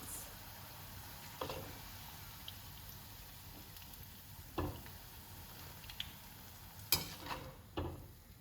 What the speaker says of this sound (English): I'm going to take out my second batch of fried eggplants.